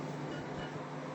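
A kitchen chimney exhaust hood runs while paneer sweet and sour is being cooked. It makes a steady, faint whooshing hum with a low droning tone and no breaks.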